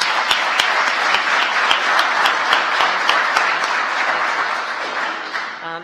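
An audience at a White House advisory commission swearing-in applauds the Secretary of Education with steady, dense clapping that runs loud throughout and tapers slightly at the end.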